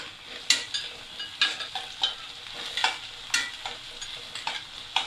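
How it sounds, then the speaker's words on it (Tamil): Green chilli, garlic, curry leaves and coriander sautéing in a pan for a Kerala coconut dish, a steady sizzle with repeated sharp scraping stirs of a spatula against the pan, close and fairly loud. "இதையும் நல்லா போட்டு வதக்கிக்கணும்."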